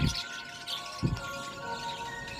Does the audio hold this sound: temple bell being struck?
no